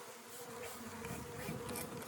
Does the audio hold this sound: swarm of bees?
yes